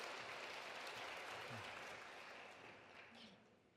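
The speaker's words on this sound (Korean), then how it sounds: "수고하신 우리 바울 관현악단을 위해서 다시 한번 큰 박수 부탁드리도록 하겠습니다." A church congregation applauds the Paul orchestra after a Sunday service, clapping in a sustained, even burst that slowly fades; a voice speaks briefly underneath.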